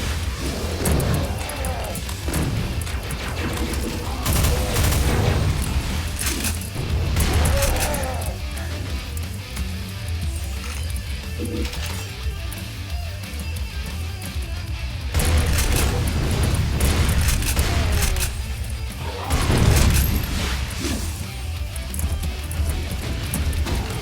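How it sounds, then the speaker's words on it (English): Rockets and gunfire in a Doom mod video game, with bursts of explosive blasts and rapid shots in clusters over a steady rumbling background, loud and close, with someone talking between the bursts. "Those are the saddest rockets I've ever seen."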